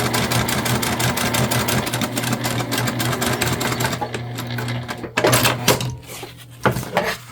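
Sewing machine stitching a fabric book sleeve seam, a rapid, loud, even mechanical chatter for about four seconds, followed by a few short bursts of clunks and handling noise.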